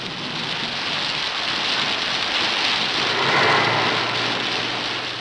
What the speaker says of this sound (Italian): Ma anche qui l'estate finisce. Anche qui l'estate confina con l'ira della natura.